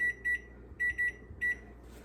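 Kitchen oven timer beeping in a kitchen, sounding repeated bursts of quick electronic beeps, each burst a pair of short tones, three or four bursts in quick succession, clear and close over a quiet room hum.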